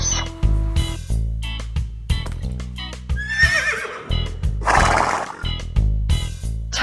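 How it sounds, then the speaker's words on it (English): A horse neighs in a shrill, quavering whinny over a bouncy musical backing, followed by a second rougher whinny a moment later. "Horse."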